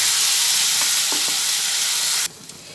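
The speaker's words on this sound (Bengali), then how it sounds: "যে কাজু বাদাম আদা আর কাঁচা লঙ্কাটা বেটে নিয়েছিলাম সেটা তেলের মধ্যে দিয়ে দিলাম" Cashew, ginger and green chilli paste hits hot oil, sizzling and frying steadily close up with a few faint stirring clicks, then cutting abruptly to a much quieter hiss near the end.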